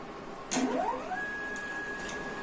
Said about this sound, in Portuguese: para vocês ouvirem só o barulho do motor de passo.